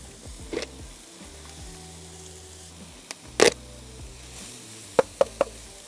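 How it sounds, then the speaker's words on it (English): Carrots and peppers sizzle on a Blackstone griddle for fried rice, a steady low frying hiss broken by a few sharp metallic knocks and scrapes of a spatula near the middle and end. "We're going to throw our carrots and peppers on first because they take a little longer to cook."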